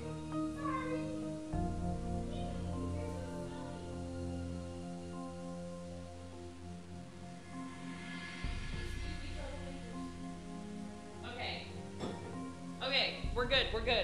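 A cat meows in the Nancy Drew video game, with a few short, rising cries near the end, set under almost continuous talking and quiet background game sounds.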